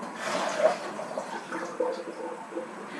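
Soaking water drained off softened dates while making a pumpkin pie custard: a soft, close trickle and splash of liquid lasting a few seconds, with small drips and a brief louder gush near the start.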